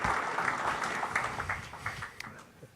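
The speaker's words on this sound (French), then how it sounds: "On peut applaudir Violaine pour..." Audience at a notaries' conference evening applauds Violaine, a soft, diffuse wash of clapping heard from a distance, with murmuring voices mixed in.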